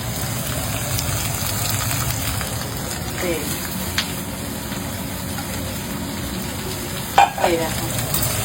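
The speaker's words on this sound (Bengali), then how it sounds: "বেগুনটা এবার দিয়ে একটু ভেজে নেবো ভাজা ভাজা করে নেবো আমি" Diced eggplant fries in oil with a constant close sizzle and crackle, broken near the end by a couple of sharp utensil knocks against the pan.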